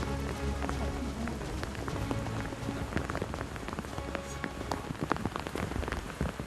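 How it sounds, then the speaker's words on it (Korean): Steady rain falls through a mountain forest during a matsutake mushroom harvest, a dense continuous patter of close drops spattering on leaves and ground, with no voices. "비가 내리는 산속에서의 작업은 결코 만만치 않습니다."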